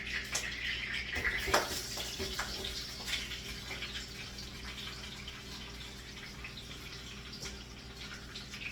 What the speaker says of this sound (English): you can hear the oil beginning to pop, so let's put the vegetables in.